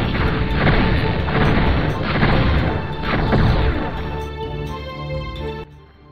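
Bombs explode in the game Heretic, a loud, dense series of crashing blasts that rumble on for several seconds before cutting off.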